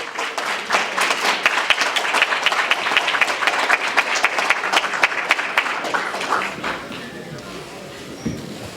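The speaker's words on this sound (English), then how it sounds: "Let's give him a round of applause, please" Audience applause for Mr. Harry Carson at a Black & White Affair evening event, a dense roomful of clapping that holds steady for about six seconds, then thins and fades into quiet.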